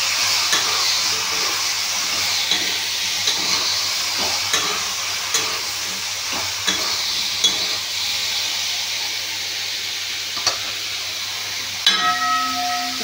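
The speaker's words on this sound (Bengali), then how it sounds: "এরপর আমি হলুদ দিয়ে দেবো, দিয়ে আবার একটু ভালো করে কষিয়ে নেব" Okra sautéed in a pan with salt and turmeric gives off a steady, close sizzle with repeated scraping stir strokes and a brief metallic clink near the end, with no voices.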